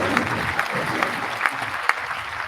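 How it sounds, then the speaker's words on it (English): An audience clapping in a loose, repeated rhythm, a broad sustained patter with several sharper claps standing out. "Clap your hands."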